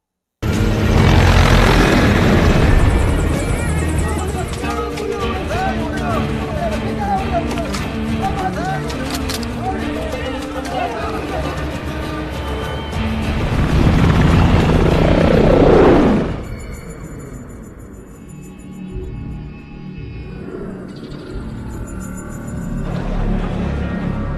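A military helicopter in a war film roars with a loud, continuous rotor and engine drone, and battle noise and voices are mixed in before the sound drops lower and quieter near the end.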